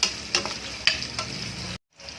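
Onions sautéing in a pan for mixed vegetables, a continuous close sizzle broken by several sharp scrapes and clinks of a utensil stirring, then a brief cut to silence before the frying resumes.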